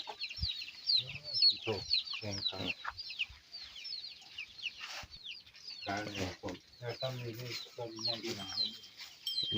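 Chickens cluck and squawk in a rural farmyard near a buffalo pen, with repeated close, busy clucking bursts while someone talks throughout.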